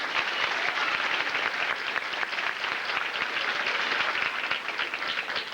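An audience gives a sustained round of applause, dense steady clapping that fills the whole stretch at an even, fairly loud level with no talk over it.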